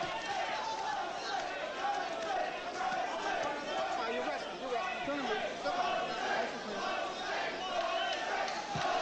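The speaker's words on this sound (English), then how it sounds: "Crowd taking up a chant of Jose." A boxing crowd in the arena during the eighth round of a 1986 Jose Ribalta fight chants rhythmically and noisily, a loud roar of many voices that keeps up through the whole passage.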